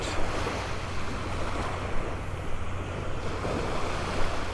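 Surf washes in steadily on the mile-long beach at Delnor-Wiggins Pass State Park, a continuous broad roar of waves mixed with wind buffeting the microphone, with no voices.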